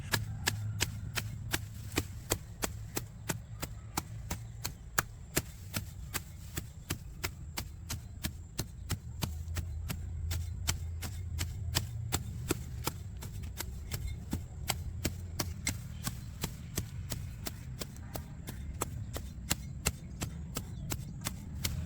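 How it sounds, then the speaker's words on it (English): Weeds are chopped into smaller pieces with a steady run of sharp, fast, regular chops. The chopping is faint and continuous over a low hum. "Chop the weeds into smaller pieces to facilitate quicker decomposition."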